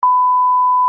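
A voicemail beep plays, a single loud, steady pure tone about one second long, clean and alone.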